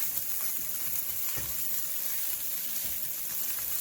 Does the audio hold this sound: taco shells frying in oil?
yes